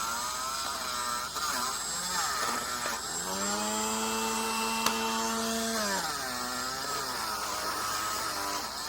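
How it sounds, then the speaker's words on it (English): A Dremel rotary tool cleaning a dirty part of a Queen treadle sewing machine, a high whining motor tone that sweeps up and down in pitch as the load changes, continuous and close. "Get the Dremel back over here."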